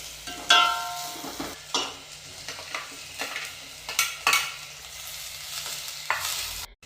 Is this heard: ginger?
yes